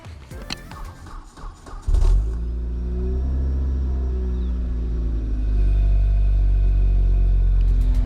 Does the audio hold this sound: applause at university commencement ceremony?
no